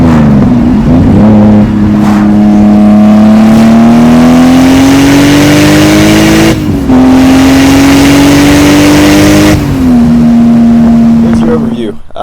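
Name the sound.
Lexus GS300 drift car accelerating in third gear pull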